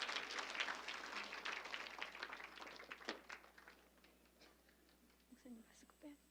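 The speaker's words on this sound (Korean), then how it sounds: "우리 박수로 모시겠습니다." Faint applause from a church congregation welcoming the director of a healing counselling centre in Wonju, a dense patter of claps at first that thins out and fades, with a soft voice near the end.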